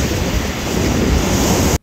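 Strong wind roars across a harbour where fishing boats are moored, with loud, continuous surf and wind buffeting the microphone, ending abruptly.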